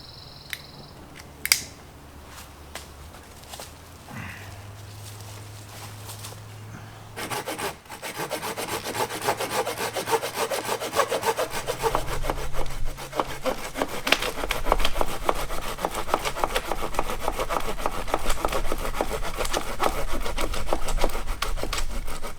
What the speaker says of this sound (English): First time using one of these saws, actually.